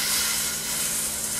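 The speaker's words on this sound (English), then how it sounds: "I'm listening for that noise, that high sizzle." Beef searing in a hot pan while preparing Beef Wellington, giving a high, steady sizzle: continuous bright hiss that stays even and close, with no talking over it.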